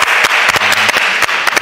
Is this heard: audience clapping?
yes